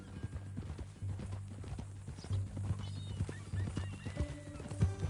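Horse hooves clip-clop steadily in the Red Dead Redemption 2 video game, with soft repeated footfalls under a low game ambience, faint and even throughout.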